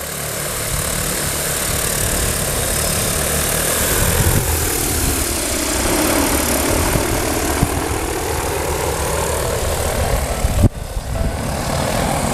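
A DJI Agras T40 agricultural drone flies inside a tent, its rotors giving a steady, loud propeller drone with a slowly shifting pitch, and a sharp knock near the end.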